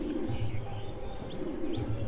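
A visiting pigeon with reddish plumage coos on a rooftop, two low, soft rolling bouts, fairly close, over a steady background hum.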